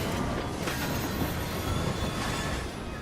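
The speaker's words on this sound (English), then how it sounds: "Stop the assassin, let's derail the train." A train in Assassin's Creed Syndicate, heard as a loud, continuous rumble and rattle of rolling railcars with a faint wheel squeal, steady throughout.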